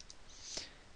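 A single soft computer mouse click, faint and close against quiet room tone, with no voices.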